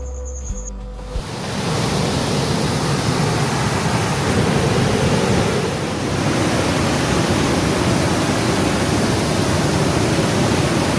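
Roaring rush of water at the Bhatinda waterfall, a loud, dense, continuous wash of sound that kicks in after a second and holds steady.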